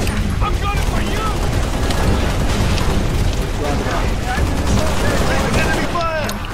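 A loud, continuous firefight in the video game Halo Reach, with rapid bursts of gunfire, booming blasts and energy-weapon whines overlapping throughout, with game voices mixed in.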